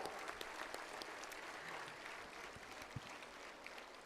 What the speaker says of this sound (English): I invite you to give a big, big, big applause to Dr. Samantha